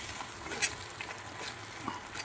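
Fried spice masala for a Bengali fish curry sizzles softly in released oil, a low continuous crackle with a few faint pops and stirring sounds and no talking.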